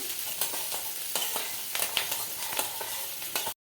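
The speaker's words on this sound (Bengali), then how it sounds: "ওই তেলের মধ্যেই আমরা দিয়ে দিচ্ছি পেঁয়াজ কুচি, চৌকো করে কেটে রাখা পেঁয়াজ কুচি দিয়ে ভালো করে নাড়িয়ে নেবো।" Diced onions fry in hot oil while being stirred, a steady close sizzle marked by repeated scraping strokes of the spoon through the pan, with no talk, before the sound cuts off abruptly.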